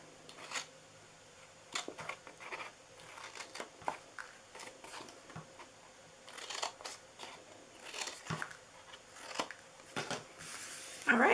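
Paper snipped with scissors while cutting the bottom flaps of a handmade Valentine treat box, a run of close, crisp cuts and crinkles spread across the clip with a louder rustle at the end.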